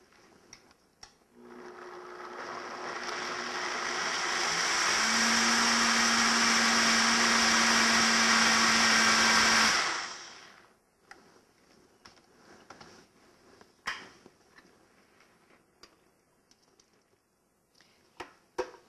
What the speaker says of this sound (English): let's go ahead and blend this up and pour it back in.